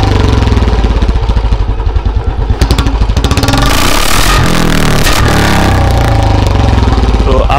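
A Royal Enfield Standard 350 BS4 with a long Punjab exhaust runs loud and close. The thumping engine is revved hard, with sharp popping backfire bursts between revs.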